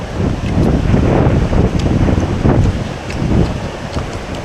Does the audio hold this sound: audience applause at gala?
no